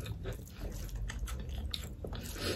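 Close, crunchy chewing of fried pork and rice with meat gravy, with wet bites and smacking, steady and continuous, with no talking.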